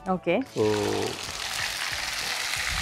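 Whole garam masala and dried red chillies fry in hot oil in a pan, a steady bright sizzle that follows a few short spoken syllables at the start.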